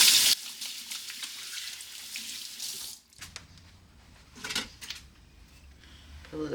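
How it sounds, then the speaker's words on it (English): Hands are rinsed under a running kitchen tap during cooking, a steady loud hiss of flowing water for about three seconds, then softer splashes and rubbing as the flow stops. "I'll wash my hands really quick."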